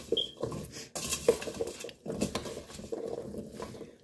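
Seasoned potatoes tossed with salt and pepper in a bowl, giving irregular bursts of clattering and scraping, moderately close and fairly quiet, with short pauses between strokes.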